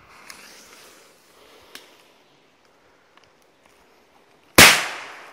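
A Chinese firecracker goes off with a single sharp, loud bang near the end, after a few quiet seconds broken only by faint clicks and rustles.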